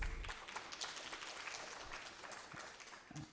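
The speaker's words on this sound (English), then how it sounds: "So could you please welcome our panelists with a round of applause?" An audience applauding panelists at a panel discussion: dense, steady clapping from many hands in a room, sustained for a few seconds without pause.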